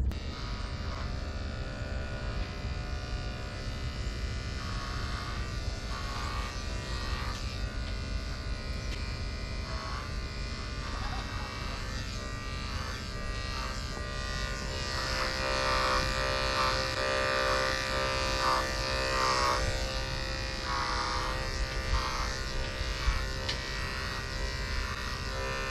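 Electric clippers shaving long leg hair on a dairy cow, a steady close buzzing drone that runs unbroken for about twenty-five seconds with no talking.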